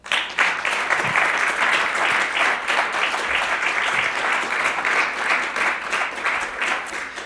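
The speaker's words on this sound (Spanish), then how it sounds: "Denle un aplauso al Señor" A congregation at a Spanish-language church service applauds the Lord with steady, dense clapping that holds at an even level for about seven seconds.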